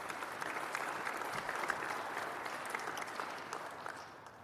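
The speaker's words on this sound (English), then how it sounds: "Big round of applause for all their hard work and dedication." Steady applause from an audience at a university women's basketball introductory press conference, a dense, even clatter of many hands that holds at one level for several seconds before beginning to fade.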